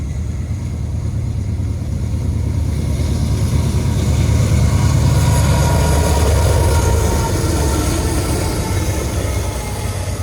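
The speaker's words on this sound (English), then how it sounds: "another hot intermodal that is passing the north end of Henderson, Kentucky." A hot CSX intermodal freight train passing at the north end of Henderson, Kentucky, a loud continuous rumble and rattle of wagons rolling by close, with steady wheel clatter throughout.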